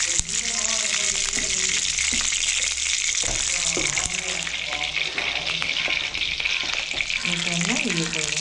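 Mustard oil sizzles steadily in a pan on the stove, a continuous loud hiss and crackle with occasional clinks and stirring sounds throughout.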